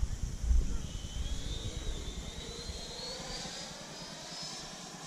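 A Freewing F-22 Raptor 90mm RC jet comes in to land, its ducted-fan whine steady and fairly distant beneath wind rumble, with a tone that rises slowly as it approaches.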